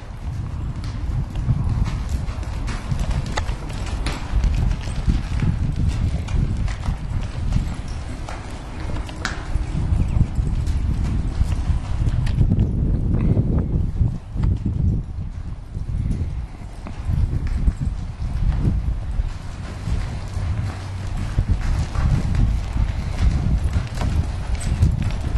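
A horse named Nilla walks a left circle around a handler, hooves clip-clopping in a steady, continuous rhythm against low rumbling background noise, with no talking.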